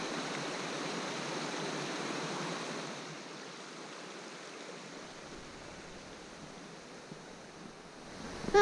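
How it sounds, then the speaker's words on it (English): A small waterfall on a woodland path pours with a soft, steady rushing wash, fairly faint and alone, easing slightly in the second half. "Another little waterfall."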